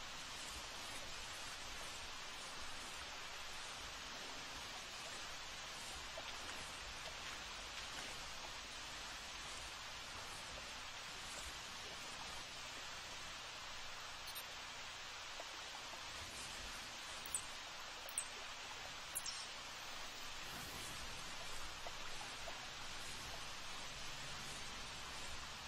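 Steady rain hiss in a video game bayou fills the whole stretch, a soft even wash with a few faint patters and rustles, no voices.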